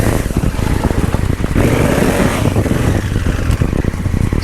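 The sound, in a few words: Honda Africa Twin DCT motorcycle engine blipping against rear brake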